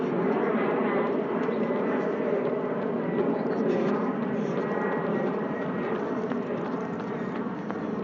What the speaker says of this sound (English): Did you see the EasyJet plane just go by?